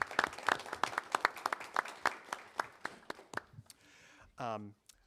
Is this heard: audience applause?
yes